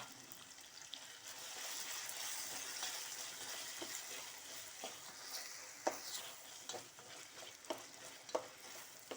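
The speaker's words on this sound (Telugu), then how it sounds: "ఆనియన్స్ వేయించుకుంటున్నాను." Onions, green chillies and tomatoes fry in a pan with a soft, continuous sizzle, broken by scattered clicks and scrapes of stirring, fairly quiet and close.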